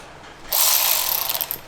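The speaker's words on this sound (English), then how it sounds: "so now we can go ahead and tighten up the J-hook bolts that we didn't tighten up earlier" Ratchet with a long, deep 7/16 inch socket driving J-hook bolts on a Jeep Gladiator truck bed drawer system, heard as a close, loud, fast clicking ratchet run lasting about a second after a brief quiet start.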